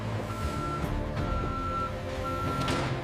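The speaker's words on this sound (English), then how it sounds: "Trucks arrive to transport the crab meat safely to ports and distributors." A truck's reversing alarm at a crab meat warehouse gives a few steady, evenly spaced beeps over a low rumbling engine and background machinery.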